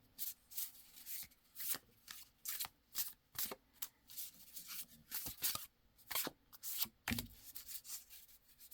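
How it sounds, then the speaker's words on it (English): Tarot deck being shuffled by hand in quiet repeated bursts, a soft riffling and rubbing of cards with brief pauses between strokes, close and low in volume with no talking. "And do you want me to shuffle again?"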